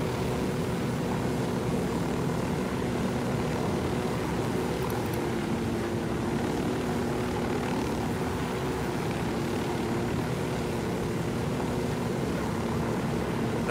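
A helicopter flies in the Ghost Recon Wildlands video game, its rotor and engine drone sustained and steady throughout, with no talk over it.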